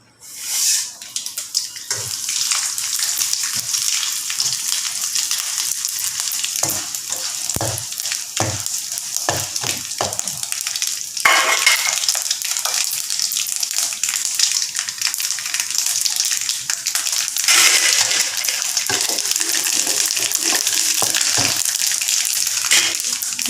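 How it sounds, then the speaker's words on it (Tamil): Lentils, mustard seeds and dried chillies sizzle loudly in hot oil, a steady crackling hiss with scattered pops and stirring clinks throughout, no voices. "எண்ணெய் சூடாகிடுச்சு. நான் உளுத்தம்பருப்பு, கடுகு, காஞ்ச மிளகா போடுறேன்."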